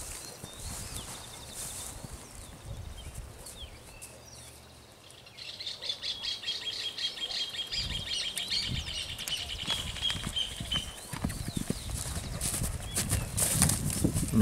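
A bay-coated, tame horse is held in place while its hooves shift and step back, giving faint irregular clops outdoors, with birds chirping steadily in the background.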